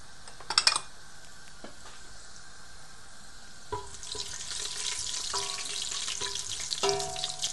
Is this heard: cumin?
yes